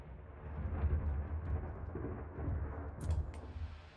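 Stormy weather in the Max Payne 2 video game: a continuous low rumble of thunder with rolling swells and a couple of brief sharper crackles near the end, no voices.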